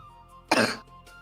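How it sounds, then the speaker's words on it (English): One short, sharp cough with a slight throaty edge sounds close and alone, during a tabletop role-playing session. "first time I've ever coughed"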